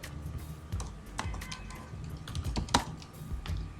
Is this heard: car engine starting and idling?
no